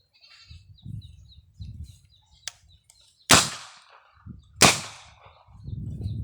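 Second blast of a homemade double-barrel boga cannon fired outdoors near goats: a sharp, loud bang at mid-clip, closely followed by another, with goat bleats and faint chatter around them.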